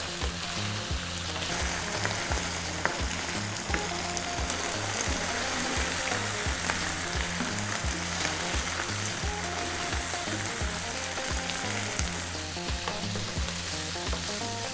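Mushrooms fry in a pan over just-above-medium heat, giving a steady, dense sizzle with crackling spits throughout, close and continuous with no talking.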